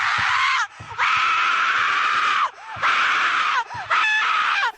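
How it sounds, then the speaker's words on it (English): A person screams in the Roblox game Sad Satan: four long, loud, strained howls, each held for a second or more and separated by short silent gaps. "only a few seconds of somebody screaming in this Roblox game"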